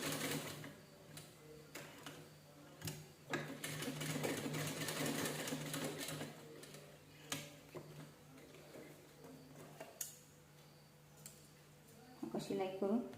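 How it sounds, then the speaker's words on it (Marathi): Fabric is double-stitched on a sewing machine while making a small devotional seat cushion, a quick rattling run of stitches that rises and falls close by with a few clicks and handling sounds. "पुन्हा परत ना त्याच्यावर आपण डबल शिलाई करून घ्यायची"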